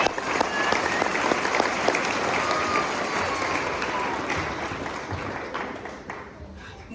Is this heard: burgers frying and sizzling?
no